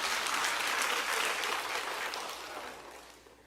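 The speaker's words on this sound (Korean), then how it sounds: "박수 쳐야 돼, 이거는" Audience applause at a church gathering during a thanksgiving camping event, a steady wash of many hands clapping that fades gradually toward the end, with no talk over it.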